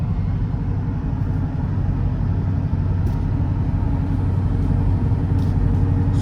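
Ford Mustang engine idling and rumbling steadily in track mode, a loud, close, continuous low drone with no distinct rev spikes.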